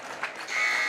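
A basketball game-end buzzer sounds in a high school gym, a steady electronic tone lasting about half a second after a brief crowd swell, moderately loud amid arena noise.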